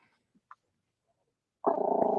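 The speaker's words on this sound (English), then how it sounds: "We have had growling dogs here before" A dog growls low and continuously in a sustained rumble that starts partway through after near silence, close and fairly loud, with no talking.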